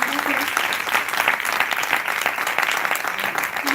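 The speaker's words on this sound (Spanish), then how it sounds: "un aplauso por favor para los 3 ponentes" An audience applauds three panel speakers at an innovation investment session in Segovia, dense sustained clapping filling the room from start to end, with faint voices mixed in.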